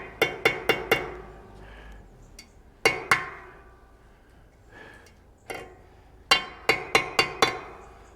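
Hammer blows on a steel roll pin against a workbench while closing one end: sharp metallic taps in quick bursts of four or five, separated by pauses, close and clear.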